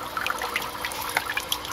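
Hydroponic nutrient water trickles and drips from greenhouse growing platforms into a bucket, with small splashy droplets hitting its side irregularly over a steady faint flow.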